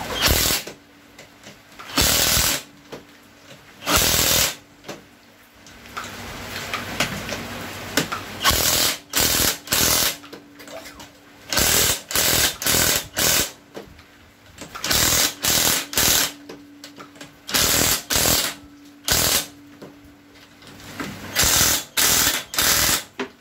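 Rapid bursts from an impact wrench fastening bolts on a Honda Wave 100 motorcycle engine being fitted with a 53mm bore kit, repeated short loud rattling strikes separated by brief pauses, alone without talk.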